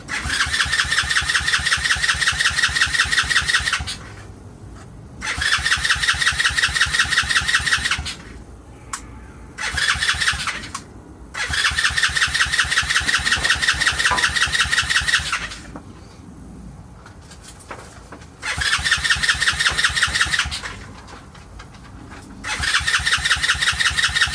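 A TaoTao 90cc ATV engine cranks over on its first start attempt. Several loud, close, rhythmic cranking bursts of about three to four seconds each are separated by brief pauses.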